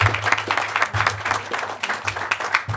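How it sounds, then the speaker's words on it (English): Applause rises from a crowd at a ceremony marking the 100th KB Home and SunPower solar home, fairly light, uneven clapping with audible individual hand claps over a low, pulsing hum in the room. "our planning commissioner, Mr. Voss, to come and take his well-deserved applause"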